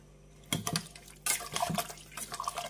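Water splashes into a bowl of biryani rice in a home kitchen, two short bursts of pouring and dribbling, close and fairly quiet, with no voices.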